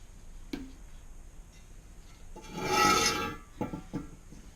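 Rubbing and wiping over rusty, heavy cast iron lathe parts during lathe assembly, a faint rasping scrub that swells into one louder sweep midway, with a few sharp knocks and clicks around it in a quiet room.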